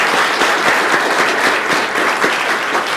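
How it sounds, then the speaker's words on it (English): Applause from the audience at a school board meeting, a dense, steady patter of many hands clapping throughout, fairly close and with no voices over it. "So big round of applause for that."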